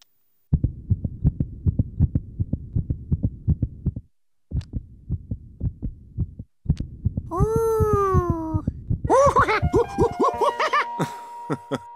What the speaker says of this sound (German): Das sind meine Herzschläge.